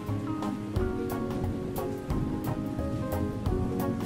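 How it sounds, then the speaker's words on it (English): Steady rain patters throughout, mixed with sustained musical tones and occasional soft thumps. "It was not going to stop raining for a long time."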